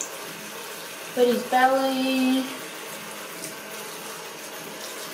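Tap water runs steadily while a puppy gets its first bath, a soft continuous rush heard close by as a person speaks briefly over it.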